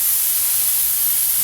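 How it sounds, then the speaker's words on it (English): Mushrooms and tomatoes fry in a non-stick pan with a steady, loud, even sizzling hiss that fills the whole moment, close up and with no talk. "I love the sound of frying stuff."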